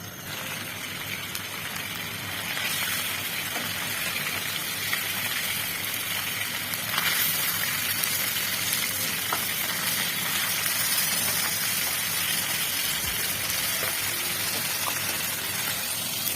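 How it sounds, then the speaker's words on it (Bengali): Hilsa fish are lightly fried in hot oil, making a steady, broad sizzling hiss that holds throughout at close range, with faint pops scattered through it. "মাছগুলো হালকা ভেজে নেব"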